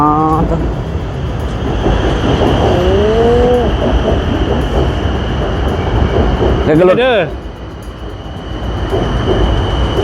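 A train in Thailand rumbles loudly and steadily past, with wheel squeals and a brief metallic screech, while a person talks over the noise.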